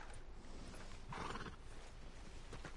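A horse whinnies loudly partway through, a drawn-out neigh rising over a quiet outdoor background with faint hoof clip-clop around it.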